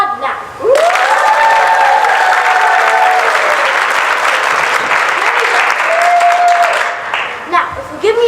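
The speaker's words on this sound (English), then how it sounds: "I'd like you to applaud now." An audience in a musical courtroom scene bursts into loud, sustained applause with some cheering, while voices call out over it, before the clapping tapers off near the end.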